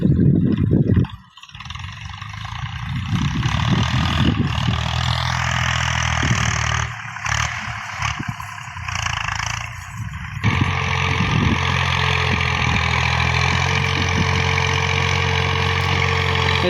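A Massey Ferguson 240 diesel tractor engine runs in a field, a steady low chugging drone that dips briefly and swells again, close and continuous.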